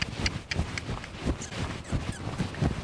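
A horse's hooves strike the ground in a quick, steady rhythm as it picks up into a canter under a rider, close and fairly loud, with light wind noise.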